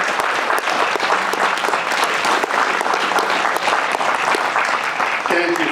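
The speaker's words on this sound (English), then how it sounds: "give a really big round of applause and cheer for every veteran that is" A crowd at a Veterans Day ceremony bursts into loud, sustained applause and cheering for the veterans present, with dense clapping and scattered shouts filling the space throughout.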